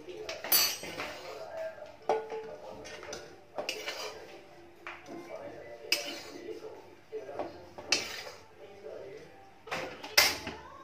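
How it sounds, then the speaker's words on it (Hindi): A metal spoon scrapes and clinks against a kadai as roasted besan is scooped out, irregular sharp knocks and scrapes with a voice talking softly in between. "ये भुना चुका है, अब इसे हम कढ़ाई से निकाल लेंगे।"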